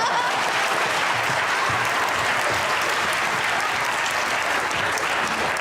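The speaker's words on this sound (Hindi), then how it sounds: "हरम के लिए तालियां।" Loud, continuous studio audience applause on a talk show, a thick, even roar of clapping that holds steady from start to finish.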